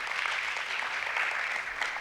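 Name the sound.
audience applause at a conference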